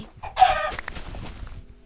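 A video-game chicken clucks in a short, busy burst, close and fairly loud, followed by scattered softer clucks and rustling background noise.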